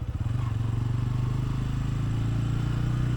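A motorcycle rides slowly toward a parking shed on a university campus, its engine putting out a steady, close, low putter with a faint mechanical clatter and no rise in revs.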